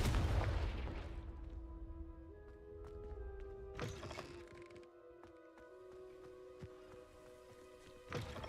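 A Confringo fire-blast spell in Hogwarts Legacy erupts as sharp, fairly quiet bursts: one at the start, one midway and another near the end, over sustained musical tones.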